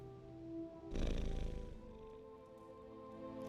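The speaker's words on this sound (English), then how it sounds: "Oh wait, I hear the cat." A cat purrs in the Marvel's Midnight Suns video game, a low rumbling purr that swells in suddenly and holds for about a second before easing back under a steady background music bed.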